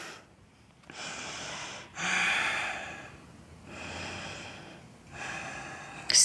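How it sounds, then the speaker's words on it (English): Slow, deep breathing during a downward dog pose in a vinyasa yoga flow: four or five long, close breaths that alternate between audible inhales and exhales, each lasting about a second, with quiet gaps between them and no talk. "Breathing."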